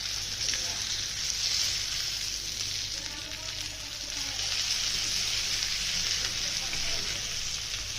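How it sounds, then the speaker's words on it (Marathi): Raja Rani fish fry in oil with a continuous bright hiss and crackle, steady and close, while a voice speaks softly over it. "झालेत बघा आपले फिश फ्राय आता काढून घेते"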